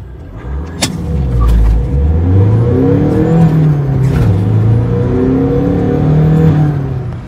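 A modified stage 2 VW Polo TDI diesel launches hard, its engine note rising steeply through repeated gear pulls, loud and close with a whine over the deep drone.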